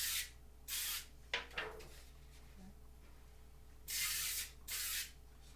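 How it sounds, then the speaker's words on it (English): Cooking oil spray hisses across a cake pan as it is coated for a boxed strawberry cake: two short bursts, a pause with faint handling noises, then two more bursts, all close and without speech. "oil spray. What you're going to do is you're going to line the whole pan, go back and forth."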